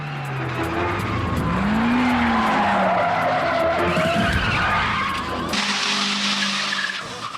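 During a stunt sequence in a Jackie Chan film, Mitsubishi cars skid with long squealing tires and loud engine roar for several seconds. The noise then cuts to a quieter scene.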